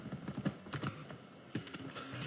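Code is typed on a computer keyboard in quick, close, soft clicking bursts with a short pause between them.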